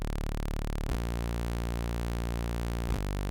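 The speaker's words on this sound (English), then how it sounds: "Just the basic, default saw wave." A bright, buzzy default saw wave synth tone in Ableton Live 11 holds steady, changing pitch twice, with no voices present.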